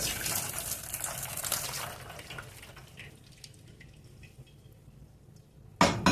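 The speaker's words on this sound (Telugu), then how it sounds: "కొంచెం నీళ్ళు కారిపోయేంత వరకు ఇట్లనే ఉంచుదాం" Water trickles and drains steadily from strained lentils, easing to a quieter drip before a short splashy burst near the end.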